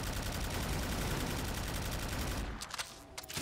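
A deck gun in a Call of Duty Zombies mod fires a dense, continuous roar of rapid shots that fills the scene, then breaks off into a few scattered bursts near the end.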